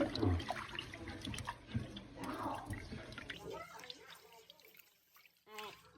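Rice being washed by hand in a pot of water, with swishing and light splashing under a person talking throughout.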